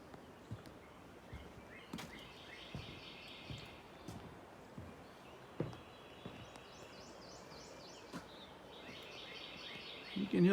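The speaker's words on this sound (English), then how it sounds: "You can hear the birds in the background." Faint birdsong, with repeated high chirps and short trills, drifts from a distance in the quiet countryside around a log home, over soft rustling and occasional light knocks.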